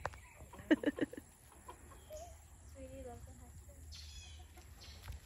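Chickens at a hen house clucking as they are fed breakfast: a quick burst of loud clucks near the start, then softer scattered calls over a steady low background hum.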